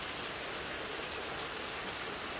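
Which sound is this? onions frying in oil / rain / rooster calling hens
rain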